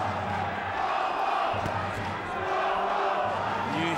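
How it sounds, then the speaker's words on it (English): A Brazilian boxing crowd chants 'Popo' in support of Acelino Freitas during his fight with Zahir Raheem, a loud, continuous roar of arena voices with rhythmic chanting and scattered thumps beneath it. "Start to hear the chants of Popo from the crowd, the Brazilian support for Acelino Frietas"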